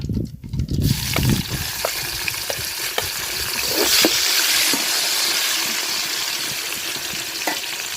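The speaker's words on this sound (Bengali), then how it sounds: "মাছ ভাজার তেলে আমি পেঁয়াজ আর মরিচ দিয়ে দিলাম" Onions and chilies hiss and crackle in oil left over from frying fish. A steady close sizzle with occasional stirring clicks runs throughout, alone with no talk.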